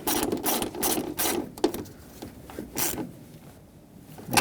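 Ratchet clicks in short bursts while an 11mm ground fastener is snugged on a 1998-2011 Ford Ranger 4.0L V6 during fuel injector work, close and fairly loud with pauses between strokes.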